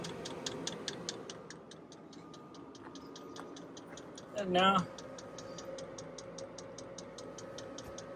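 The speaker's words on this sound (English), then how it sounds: "The fuel pump started to pick up. You can hear the sound back there." Quiet, regular ticking of a diesel heater's small fuel pump, evenly spaced clicks continuing throughout, with a brief spoken remark in the middle.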